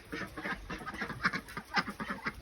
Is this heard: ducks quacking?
yes